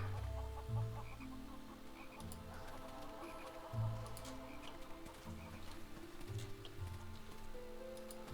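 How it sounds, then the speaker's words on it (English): Chickens clucking in the fantasy role-playing game Neverwinter Nights 2, a steady run of low, close clucks repeating every second or two over a soft ambient bed of rain and frog-like chirps, with no talking. "My pet chicken Ralph is sick."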